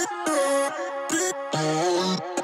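Pitched vocal chops with the formant shifted down in Little Alter Boy sing short, tonal syllables in a choppy rhythm, a few brief bursts over about two seconds.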